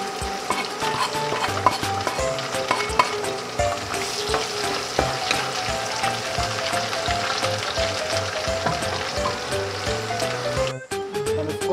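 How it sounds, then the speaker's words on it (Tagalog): Garlic and onion sauté in a hot pan for a Filipino green bean and mushroom dish, giving a loud, steady sizzle and frying hiss with occasional stirring clatter that runs unbroken nearly to the end. "And igisa na natin yung bawang."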